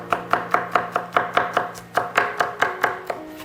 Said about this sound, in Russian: Нарезка, вся нарезка мелких кубиков.